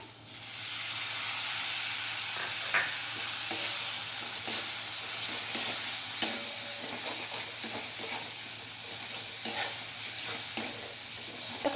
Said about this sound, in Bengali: এবার সব কিছু আবার ভালো করে ভেজে নিচ্ছি এবারে টমেটো কুচিগুলো দিয়ে দিলাম